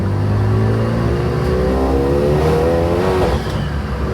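A forged Renault Megane RS race car drives hard, its engine revving loudly and continuously as the pitch climbs steadily, then dips near the end, with no talk.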